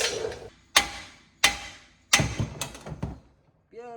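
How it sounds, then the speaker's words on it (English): A red mallet strikes a Jeep Wrangler part with three sharp, loud knocks evenly spaced, then a couple of quicker hits, and a brief voice near the end. "Mallet."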